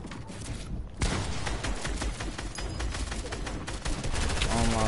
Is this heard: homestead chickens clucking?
no